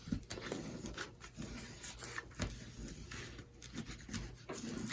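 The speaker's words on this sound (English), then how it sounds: "And once you have it where you want it, you can go ahead and burnish that down" A burnishing tool rubs paper down flat on a book folio in quiet, repeated scraping strokes, faint and close, with no talking.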